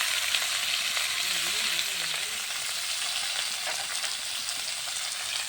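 Vegetables fry in a pan with salt and turmeric added, a dense continuous hiss and crackle of hot oil heard up close and steady, with a faint voice briefly murmuring beneath.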